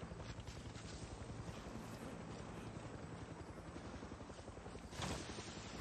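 Helicopter in the Far Cry 6 video game, its rotor throbbing in a steady, fast pulse over a constant engine whine, moderately close and uninterrupted, with no talk.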